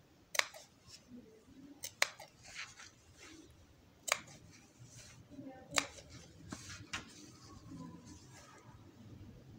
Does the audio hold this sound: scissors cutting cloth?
yes